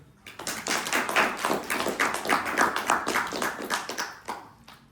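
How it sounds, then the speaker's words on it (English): A crowd applauds steadily with dense, continuous clapping that swells slightly and fades near the end, fairly close and loud. "Can we all give a round of applause for Stephen Ray?"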